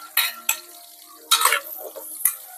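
Garlic, onion and tomato go into a pan with a few short bursts of sizzle and scraping, separated by quiet gaps, close and moderately loud.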